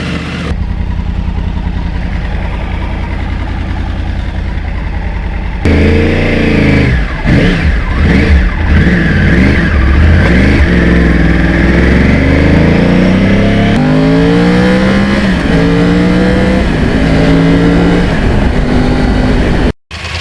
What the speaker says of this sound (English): nothing like the sound of a Crossplane clearing out all that moisture out of the exhaust